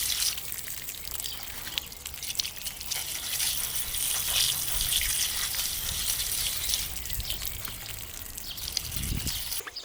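Steady rushing water pours from a tap over fish being rinsed of salt, a constant hiss with occasional splashes and a brief low thump near the end.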